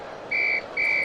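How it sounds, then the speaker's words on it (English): Two sharp, steady referee whistle blasts, each about a quarter second, sound during a 1976 NBA playoff basketball game between Boston and Philadelphia, over a low arena crowd murmur. "Whistle, no, a jump ball as Scott and Doug Collins got tied up"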